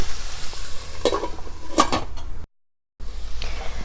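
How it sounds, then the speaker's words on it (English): Indian-style aloo gobhi, potato and cauliflower sabzi, stirred in a pan with a spatula: close, bright scraping strokes over a steady sizzle, broken by a brief silent gap before the frying resumes. "I will stir it again and make sure that it is not stuck like this."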